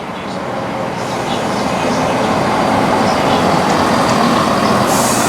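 A three-car train rolls steadily past at close range through a station, a loud continuous rumble and rushing noise that holds throughout without pause.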